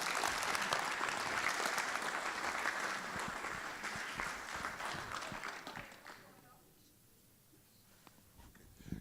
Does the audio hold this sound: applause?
yes